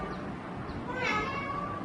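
A voice imitates a cat with a single drawn-out meow, fairly soft over light background noise.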